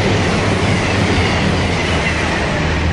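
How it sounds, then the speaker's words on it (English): A Voyager passenger train passes on the railway close by, a loud, steady rumble with rhythmic clickety-clack from the wheels filling the whole stretch with no talk. "There's a Voyager on its way down, you can hear that from here."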